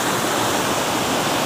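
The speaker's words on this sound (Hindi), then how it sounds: "इस तरफ से पानी आ रहा है" Water rushes over the Bada Ghagara waterfall in Keonjhar, a loud, continuous, even roar of falling water with no pauses and no voices.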